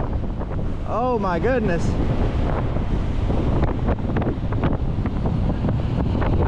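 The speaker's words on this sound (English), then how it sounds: "It's supposed to be windy tomorrow, not today." Strong wind buffets the microphone in a constant roaring rush on a city street while cycling, while a person briefly exclaims near the start.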